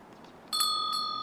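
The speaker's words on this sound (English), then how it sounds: "The bell above the door jangled, and Agnes turned to see her assistant slipp" A bell hung above a shop door jangles once, a bright ringing burst that rings on with a sustained metallic shimmer after a quiet room-tone start.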